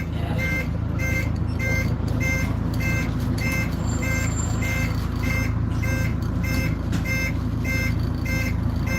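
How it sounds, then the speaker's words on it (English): A bus indicator buzzer, worn and due for replacement, beeps steadily in a regular rhythm, about once every half second, over a constant low engine rumble. "No, the buzzer needs replacing. The buzzer's on its way out."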